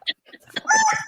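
A person imitates a rooster's cock-a-doodle-doo, a drawn-out, warbling crow that swells near the end. Breathy sounds come first, and the voice is close and fairly loud.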